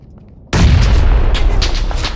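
A sudden loud gunshot burst in the battle royale game PUBG, hitting hard at once and then sustaining a heavy rumbling volley of shots with sharp cracks on top, close and dominant.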